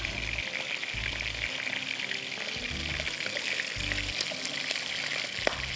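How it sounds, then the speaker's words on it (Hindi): Almonds lightly frying in a pan for an Arabic rice dish: a steady, close sizzle of oil hisses continuously, with a faint low hum underneath and a small click near the end. "एक किलो है बादाम बिल्कुल हल्के से फ्राई करके फिर निकाल दीजिएगा"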